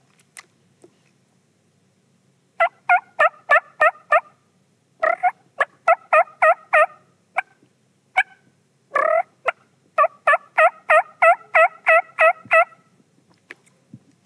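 A Quaker Boy turkey call is worked by hand to imitate a hen turkey's yelp: several bursts of rhythmic, raspy yelping notes in quick runs, close and clear, separated by short quiet gaps.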